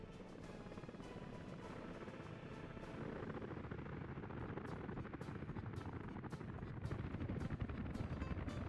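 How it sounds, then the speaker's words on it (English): Helicopters in the city-building game Workers & Resources: Soviet Republic thunder with a rapid rotor chop that grows louder and denser as they approach, filling the scene alone without speech. "we're going to hear the thunder of helicopters in a minute"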